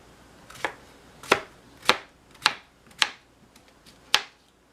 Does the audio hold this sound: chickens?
no